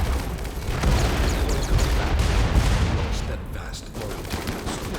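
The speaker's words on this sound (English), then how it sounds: "Whoa, the explosions!" A dense barrage of explosions and booming blasts in RimWorld rumbles continuously, loud and chaotic, with a voice faintly underneath.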